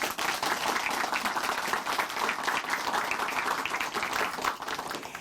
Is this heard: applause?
yes